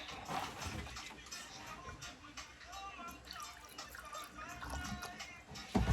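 Water trickles and splashes in an uneven stream close by as it is poured into a ball python's water dish, with a voice murmuring faintly underneath.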